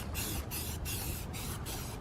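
Spray gun laying a first coat of primer onto a repaired car bumper, heard as steady loud hissing bursts with short regular pauses between passes, with no talk.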